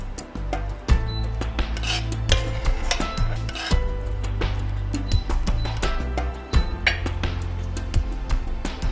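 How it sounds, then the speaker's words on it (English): A spoon scrapes and clinks as goulash of meat, vegetables and sauce is ladled into a bowl, close irregular scraping and metallic taps over a low background hum. "Spoon it into a bowl."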